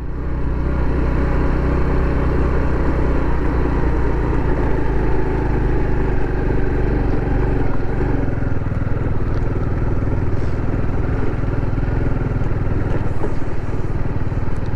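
A motorcycle riding uphill on a Bolivian road toward a hillside town, a loud continuous engine drone with wind rumble lasting the full fifteen seconds, close up with no clear talk.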